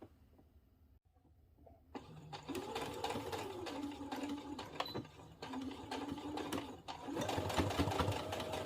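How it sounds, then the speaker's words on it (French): A sewing machine runs at a steady, even whir while stitching a V neckline, starting after a quiet moment, briefly easing off and then picking up speed again toward the end. "maintenant je peux passer à la couture sur la machine"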